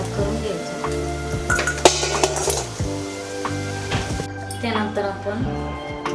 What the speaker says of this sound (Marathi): अशा पद्धतीने गोल्डन फ्राय करून घ्यायचं.